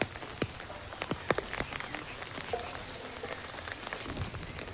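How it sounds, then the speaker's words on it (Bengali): Heavy rain falls steadily outdoors, a dense hiss of water on surrounding surfaces with scattered sharper drips and splashes standing out nearby, no voices over it. "দেখো কেমন বৃষ্টি পড়ছে চারিদিকে, একদম এখনও পর্যন্ত বৃষ্টি হয়ে যাচ্ছে।"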